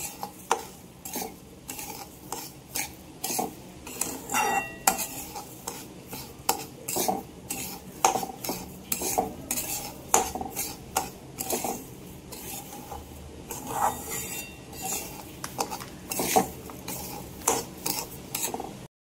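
Broken wheat lapsi roasting in ghee as a spoon scrapes and stirs it around a pan, giving irregular close scraping and clinking strokes with no talk.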